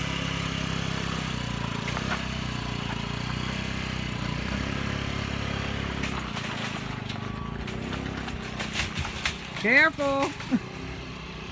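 Small vehicle engine running low on gas, a steady close rumble that sputters and fades, with someone speaking briefly near the end.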